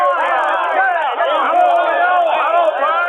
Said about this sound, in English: he's greeted by a loud cheer from his henchmen